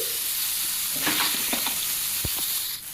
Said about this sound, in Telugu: ఆ నెయ్యి ఆ వాటర్ కంటెంట్ అంతా అబ్జర్వ్ అయ్యేలాగా ఫ్రై చేయాలి